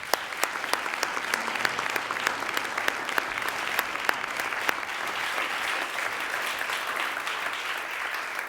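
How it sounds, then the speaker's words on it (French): Conference attendees at the IMS Luxembourg 15th-anniversary event give the speakers and presenters a sustained round of applause, an even wash of many hands with a few sharper nearby claps standing out. "ils méritent vraiment, tous ces speakers et intervenants, une sacrée dose d'applaudissements de votre part"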